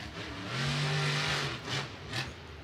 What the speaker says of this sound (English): I love listening to the way Krysten drives this truck. It sounds just like her dad